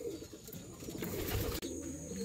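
Racing pigeons coo steadily in a loft during morning conditioning and feeding, with soft, low, throaty calls overlapping continuously at close range. No one speaks.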